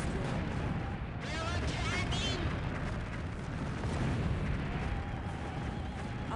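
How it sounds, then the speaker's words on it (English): A building destroyed under attack in the real-time strategy game Earth 2150: dense, continuous booming and rumbling of artillery-like blasts, loud and busy, with synthetic game voice announcements layered over the fire. "They're attacking. Our building has been destroyed."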